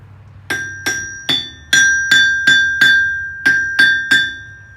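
A steel anvil struck by a hammer in a blacksmith's ironworks rings out with about ten sharp, bright metallic blows, each leaving a clear sustained tone that decays before the next strike.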